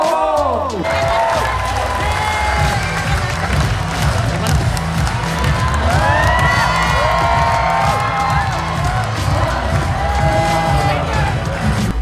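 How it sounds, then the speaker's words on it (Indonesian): A crowd cheers and claps for Ganjar Pranowo at an event, loud and sustained, with shouting voices, whistles and a dense wash of applause throughout. "beri tepuk tangan yang meriah untuk Bapak Ganjar Pranowo"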